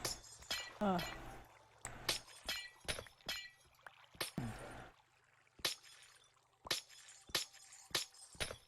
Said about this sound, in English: There's one Minecraft sound I actually do like besides it's the glass ice sound